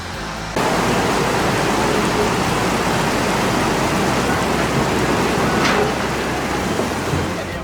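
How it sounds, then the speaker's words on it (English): Steady, dense rainfall hisses without a break in a mountain area, loud and close from start to end with no voices. "Yeah, it rains, then it clears up for a few hours."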